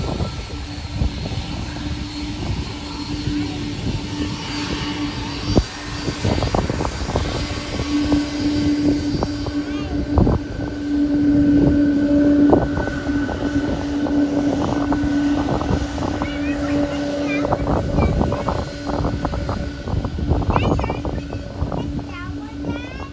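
Jet airliner engines rumble steadily at Kahului Airport on Maui, a loud sustained roar with tonal whine that swells mid-clip, with faint voices nearby.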